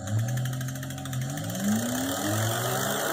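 A Voilamart 1500W e-bike hub motor wheel spins flat out with a steady, close mechanical whir whose pitch shifts and climbs slightly over a few seconds.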